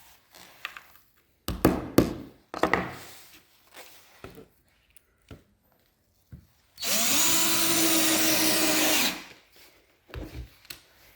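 Shelf pins are tapped lightly into a wardrobe panel, giving scattered sharp, close taps across the clip, with a loud two-second burst of power-tool whine partway through.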